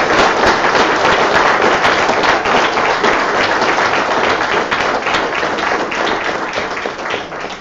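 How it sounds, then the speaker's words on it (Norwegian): Dense applause from an audience at a public community meeting, loud and continuous at first, then slowly thinning and fading toward the end. "så jeg synes at den fortjener en applaus"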